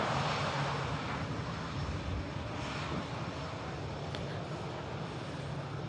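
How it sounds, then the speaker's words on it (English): Broad, steady roar of jet engines as an Etihad Boeing 787-10 Dreamliner departs Manchester Airport, heard from a distance outdoors, a continuous rumble with no voices. "Etihad 787-10 Dreamliner heading back to Abu Dhabi"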